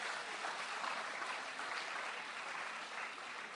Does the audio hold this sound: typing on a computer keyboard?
no